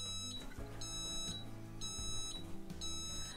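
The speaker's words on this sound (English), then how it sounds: "there is an audible alarm to tell you that there is no power coming through" Quiet electronic no-power alarm beeps from an Otolift Air curved stairlift repeat at a steady interval, three high-pitched bleeps over a low background hum.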